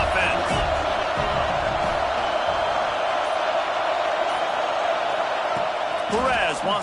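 Roaring football stadium crowd fills the scene with a loud, steady wash of noise, swelling with cheers near the end, while a commentator's voice runs over it.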